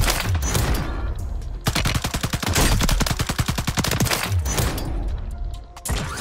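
Sustained fully automatic fire from the Attack Eradicator gun in Warzone 3, loud and close, with a long rapid stream of shots between shorter bursts and no voices.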